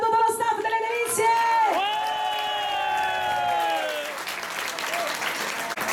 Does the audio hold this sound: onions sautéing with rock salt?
no